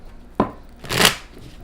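Tarot cards being shuffled by hand, a sharp riffle snap followed by a longer, louder burst of flapping cards, close and alone with no talk.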